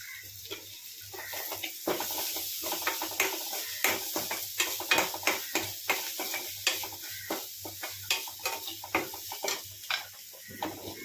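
Onions with salt and a pinch of turmeric frying slowly on low heat for a amaranth greens dish, giving a soft steady sizzle with repeated scraping stir strokes and light utensil clinks.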